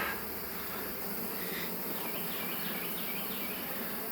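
Honeybees in a hive full of swarm cells, a dense steady buzz of many bees filling the space closely and continuously, with no voices.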